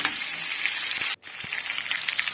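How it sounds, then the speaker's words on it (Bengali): Potatoes and diced eggplant fry in a pan with a steady broadband sizzle, briefly cut off for a moment midway, with a couple of soft low knocks from stirring. "বেগুনটাকে ডুমো করে কেটে নিয়েছি। এর মধ্যে আবারও সবগুলো নেড়ে নেব।"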